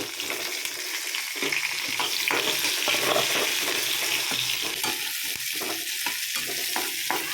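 Onions frying in a pan until brown, a loud continuous hiss and crackle close up, with stirring scrapes breaking through in the later part.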